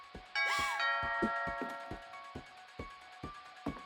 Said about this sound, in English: Bell आ गई।